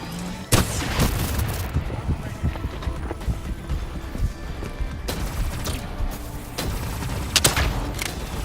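Dense gunfire from Call of Duty Black Ops 3 fills the stretch: repeated sharp shots and heavy volleys over a rumbling battle bed, with louder bursts near the start and end and occasional game voices underneath.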